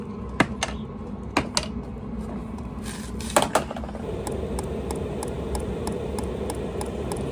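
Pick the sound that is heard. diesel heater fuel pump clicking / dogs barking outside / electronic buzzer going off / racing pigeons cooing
diesel heater fuel pump clicking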